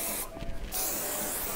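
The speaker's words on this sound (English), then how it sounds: "I'm gonna take some hairspray and spray things down." Two hissing bursts from an aerosol hairspray can, a brief one followed by a longer, steady spray, close up.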